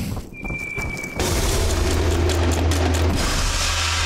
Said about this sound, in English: They dropped a bomb on the ape